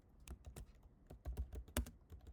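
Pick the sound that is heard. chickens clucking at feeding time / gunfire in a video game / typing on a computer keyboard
typing on a computer keyboard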